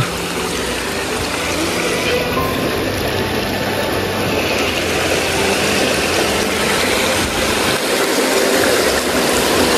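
Constant loud rushing of a flooding river's strong current after heavy rain, a dense steady roar with no pauses, close and filling the whole scene.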